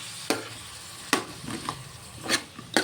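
Tender eggplant curry being stirred in a pan, a spoon scraping and knocking against the pan in a few sharp, irregular strokes over a low background sizzle, with no voices.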